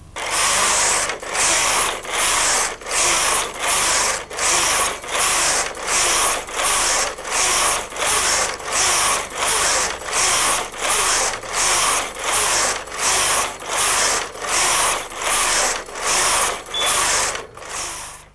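A Brother KH950i knitting machine knits a pattern as its carriage sweeps back and forth, a loud, rhythmic mechanical clacking that repeats about every three-quarters of a second with no talk.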